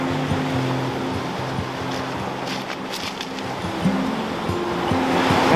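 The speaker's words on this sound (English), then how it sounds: "The waves are calming down just a little bit" Waves on Lake Superior during a winter storm, a loud continuous rushing wash of surf with a low rumble beneath, steady throughout without speech.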